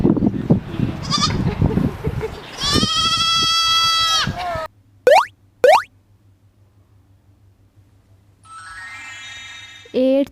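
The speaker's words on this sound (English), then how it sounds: "4 goats." Goats bleat in a farm-animal counting sequence: a stretch of quavering bleats over low noise, then two short sharp cartoonish plops, a quiet pause, and a final brief bleat.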